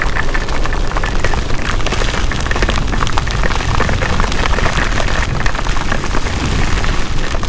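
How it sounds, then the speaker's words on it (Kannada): Heavy monsoon rain pounding during a motorbike ride near Kudremukha in Chikkamagaluru, a loud, dense, unbroken roar of downpour with wind buffeting, close and continuous throughout. "ಸಡನ್ನಾಗಿ ಇಷ್ಟೊಂದು ಮಳೆ."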